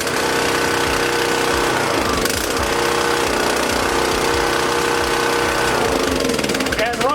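A Stihl small engine runs steadily on choke, a loud continuous mechanical drone with rapid firing pulses that holds for the whole stretch, close by with no talking over it.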